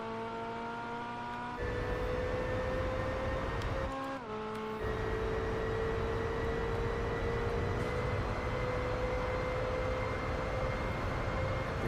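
A Pagani Zonda's engine in Gran Turismo 4 drones with steady harmonic tones that shift pitch as gears change, loud and continuous with a brief break around the fourth second, no talk over it.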